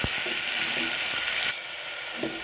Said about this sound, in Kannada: ಈರುಳ್ಳಿ ಸ್ವಲ್ಪ ಟ್ರಾನ್ಸ್ಪರೆಂಟ್ ಆಗೋವರೆಗೂ ಇದನ್ನು ಉರಿಯಿಸಿ ಈರುಳ್ಳಿ ಸ್ವಲ್ಪ ರೋಸ್ಟ್ ಆದ ನಂತರ ಟೊಮೊಟೊವನ್ನು ಸೇರಿಸಿ